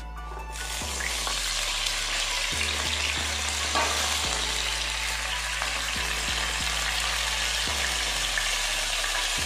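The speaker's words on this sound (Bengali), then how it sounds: "আমি এবার টমেটো কুচি আর টমেটো পেস্ট একসঙ্গে দিয়ে দিচ্ছি।" Chopped tomato and tomato paste hit a frying pan, setting off a loud, steady, close sizzle that starts abruptly a moment in and keeps on hissing evenly, with no talking.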